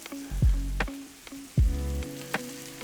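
Shredded cabbage sautéing in a pan, with sharp sizzling bursts as handfuls hit the hot surface, then a steady frying crackle and occasional stirring clatter.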